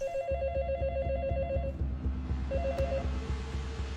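Telephone ringback in a sci-fi film scene, a call placed to a doctor: repeated short, clear electronic ringing bursts pulse in a steady pattern, pause, then resume over a low rumbling background.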